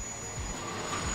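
A train rolls into a station with a steady low rumble of wheels on rails, close and continuous, faintly squealing, with no talk.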